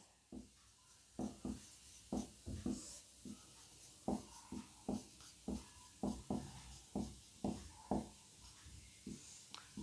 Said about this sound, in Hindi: यहाँ पे डायरेक्ट लिखेंगे हम लोग